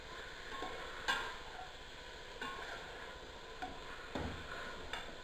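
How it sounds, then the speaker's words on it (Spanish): Chicken pieces cook quietly in a pan, a low sizzle broken by a few soft scraping stirs and light clicks of the utensil, with no voices. "Lo movemos para que se cocine todo y no se nos vaya a quedar un poco crudo de unas partes."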